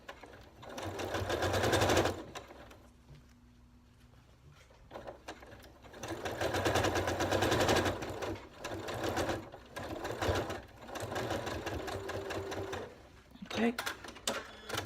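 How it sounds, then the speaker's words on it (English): Sewing machine stitching a line of stitches along ribbon on a mesh bag, close and loud, running in several bursts of a few seconds with short pauses between, while someone talks. "I'm going to do 1 line of stitches at the top of the ribbon"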